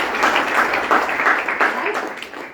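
A seated audience at a business talk claps on request, a dense, sustained round of applause with brief swells, close and continuous for about two and a half seconds with no talking over it.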